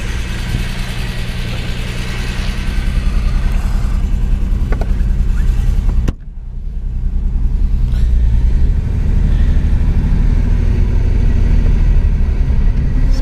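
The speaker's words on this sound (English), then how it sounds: "So I'm gonna get in the car, we're just gonna take it for a quick little ride." A supercharged 1941 Graham Hollywood car runs steadily, its mid-pitched engine rumbling loud and close from start to finish, with a brief dip midway before the drone resumes.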